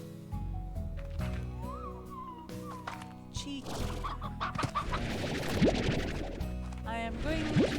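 Chickens in the video game Slime Rancher 2 cluck and squawk in scattered bursts that grow busier toward the end, set against game background tones.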